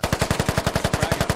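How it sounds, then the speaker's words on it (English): Rapid automatic gunfire in the video game Squad, soldiers shooting up through a floor from below: a steady, even burst of about twenty loud, close shots fired at a fast rhythm with no pauses. "Russians are actually trying to shoot through the floor and pin them from above."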